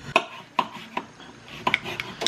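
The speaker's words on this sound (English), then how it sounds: "I'm just kind of randomly slicing it here." A knife slices zucchini on a cutting board in a handful of irregular, sharp taps, close and clear with no talk.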